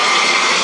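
An airplane flies low over a home beside an airport, a loud, steady jet roar filling the whole moment with no voices.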